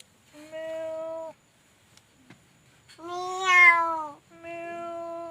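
A cat in labor, giving birth to four kittens, cries out in pain with three drawn-out, wavering meows heard up close against a quiet room, the middle cry louder and more strained than the others.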